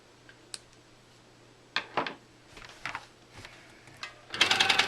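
A sewing machine stitching a quilted pillow sham gives scattered mechanical clicks and ticks, then a dense, fast run of stitching at the end, nearby with no talking.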